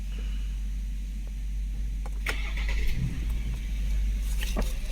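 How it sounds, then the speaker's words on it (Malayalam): A 2025 Ford Everest's engine runs with a low, steady rumble, swelling briefly about midway, while a few sharp clicks and rattles sound nearby inside the vehicle. "വണ്ടി സ്റ്റാർട്ട് ചെയ്തു."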